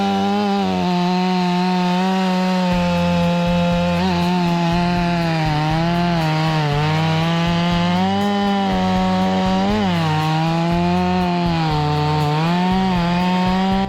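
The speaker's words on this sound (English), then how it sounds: "MS500i, a chainsaw that transcends conventional machinery, it's a symphony of precision and raw power." A Stihl MS500i chainsaw cuts through wood with a loud, continuous engine whine whose pitch rises and dips as the bar bites, sustained close up for the whole stretch with no talk.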